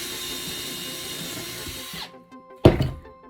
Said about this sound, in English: I've marked the holes up where I need to drill the holes